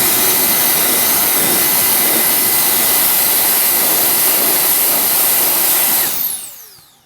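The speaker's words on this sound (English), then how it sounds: "this thing really does blow air pretty good" A cordless leaf blower, a Milwaukee knock-off tool, runs at full power with a loud, steady, close-up airy roar and a faint high whine, then spins down and fades over the final second.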